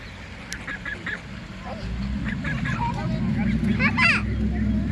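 A group of hungry geese honks in short, scattered calls outdoors, some nearer and some farther, while people talk over them and a low rumble runs underneath.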